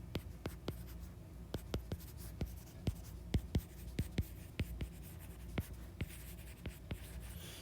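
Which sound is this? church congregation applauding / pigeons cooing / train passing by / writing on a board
writing on a board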